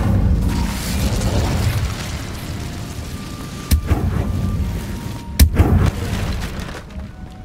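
An Incendio fire spell is cast in Hogwarts Legacy, with a rumbling, roaring burst of flame under steady ambient noise and two sharp, punchy bursts partway through.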